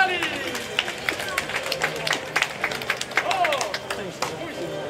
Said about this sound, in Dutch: Geef groot applaus voor Ali Metali.